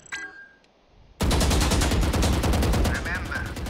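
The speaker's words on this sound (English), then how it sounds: "Shoot the center of target by firing continually while controlling your recoil." Continuous automatic gunfire at a target in the shooter game Valorant, a loud rapid burst of shots after a short quiet moment with a faint electronic tone.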